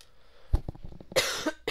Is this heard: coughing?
yes